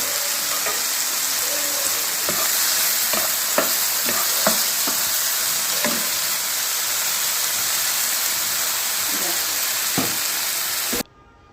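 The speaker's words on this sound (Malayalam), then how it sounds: "ഒരു നാലല്ലി വെളുത്തുള്ളി ഇട്ട് കൊടുത്തിട്ടുണ്ട് അത് നന്നായിട്ട് മിക്സ് ചെയ്യുന്നത് മിക്സ് ചെയ്യുക കേട്ടോ" Garlic and green chillies sizzling in a hot pan, a steady loud hiss broken by scattered clinks and scrapes of stirring, ending abruptly in near silence.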